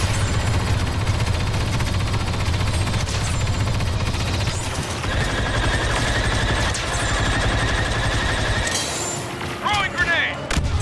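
Heavy gunfire in a video game battle, a dense continuous barrage of machine-gun rattle and booms running through the whole stretch, with a voice talking over it.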